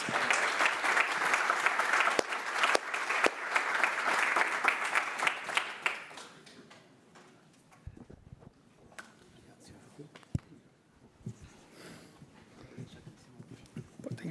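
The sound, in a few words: applause welcoming Marquinhos to the stage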